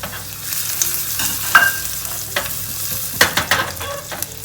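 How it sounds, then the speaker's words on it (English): Chopped garlic frying in a teaspoon of ghee in a small tadka pan, a soft sizzle broken by several sharp clinks and scrapes of a utensil against the pan, with no voices. "We'll add 1 teaspoon of ghee in it. To this we'll add some garlic, chopped garlic."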